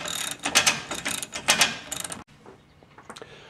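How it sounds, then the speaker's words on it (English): A crossbow's cocking ratchet clicks in quick bursts of sharp metallic pawl ticks, close and loud, then stops and a few fainter clicks follow. "Ratchet mechanism on the crossbow."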